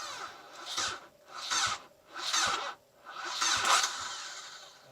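A Nissan SR20 turbo engine cranks in four rhythmic bursts, the starter churning nearby as the car struggles and fails to catch.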